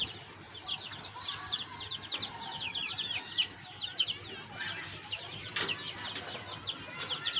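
A hen clucks in a chick brooding setup amid dense, high chirping peeps. The birds sound close and continuous, with a brief flutter near the end and no talking.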